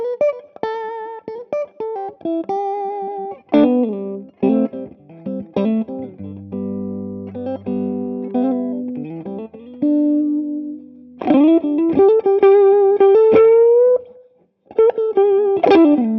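Electric guitar lead line played through a Red Plate amp with mid boost and reverb engaged, sustained bright notes and bends with a reverb tail, loud and close, no talking.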